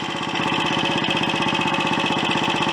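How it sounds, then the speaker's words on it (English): A Royal Enfield Olympic 250 motorcycle engine ticking over too fast, a steady, rapid single-cylinder idle with an even mechanical beat, close and loud throughout with no talk. "So you're losing a load of your engine braking there because it's ticking over far too fast."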